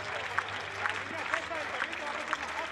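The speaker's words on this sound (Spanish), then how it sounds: "Las palmas en marcha." A standing crowd claps rhythmically in unison at a 2021 bull-leaping contest in Almoguera, steady beats under a commentator's voice.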